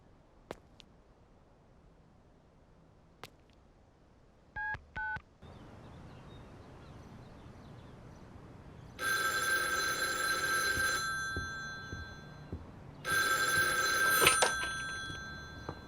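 Telephone keypad tones beep as a number is dialed, followed by two bursts of a bright electronic ringing tone, clear and moderately loud in a quiet room.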